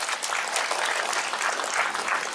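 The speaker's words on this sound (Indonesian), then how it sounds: "Tepuk tangan untuk Pancasila." Applause breaks out for Pancasila during a fiery sermon, a dense, loud roar of many hands clapping that holds at full strength for a couple of seconds without talk.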